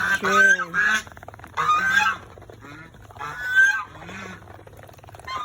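Loud, close geese honking in repeated nasal bursts, several calls overlapping in an uneven rhythm.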